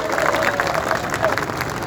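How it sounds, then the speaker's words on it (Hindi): At a political rally, a crowd breaks into steady, dense applause, with a loud voice speaking over the clapping. "जोरदार तालियां हो जाए।"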